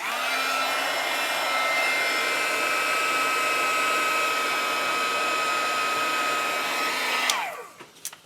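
An embossing heat tool blows over Tim Holtz embossing glaze, a steady, close, loud whirring hum that holds for about seven seconds, then switches off and winds down, followed by faint handling noises.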